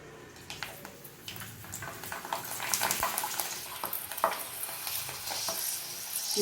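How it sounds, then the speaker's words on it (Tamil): Rice papad (arisi appalam) frying in hot oil gives a steady close sizzle and crackle that grows louder as it puffs, with occasional light scrapes of a utensil in the pan. "நான் உங்களுக்கு பொரிச்சு காமிக்கிறேன்."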